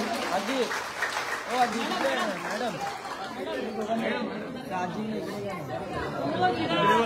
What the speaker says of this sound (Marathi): त्यामुळे एकदा जोरदार टाळ्या वाजवूया या क्षणाचे आपण